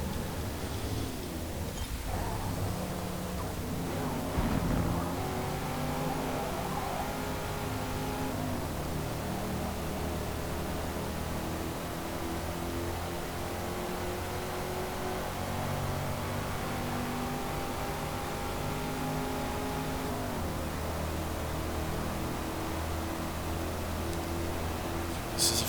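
A Fox Body car engine running flat out at top speed in Forza Motorsport, a sustained droning roar with steady tonal whine and slowly shifting pitch, loud and continuous throughout with no talk.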